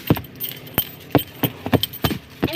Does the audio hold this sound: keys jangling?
yes